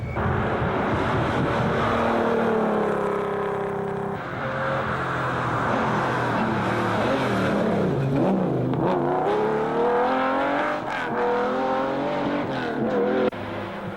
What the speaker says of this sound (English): Very comfortable, as you would imagine, being a Jaguar, and just tearing along nicely and gently.